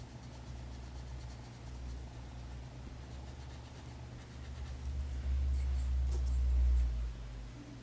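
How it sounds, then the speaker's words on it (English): Short, sharp pencil strokes scratch across paper while blending colour into a drawn eye, a steady soft scratching texture running continuously at close range under a low background hum. "using a lighter brush and very short sharp pencil strokes over the top to blend it"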